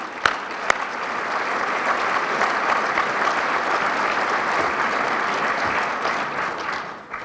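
A crowd applauding the community at the opening of a new arena, the Mountain America Center, a dense, steady wash of clapping that holds level for about seven seconds, with two sharp claps near the start and a drop at the end.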